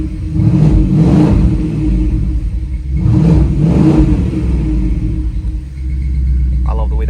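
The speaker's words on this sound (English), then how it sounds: "then we'll give it a couple revs" A BMW E70 X5 with a brand-new N63 long-block V8 revs twice in short bursts, each swell rising and falling over a steady idle rumble, heard close and loud.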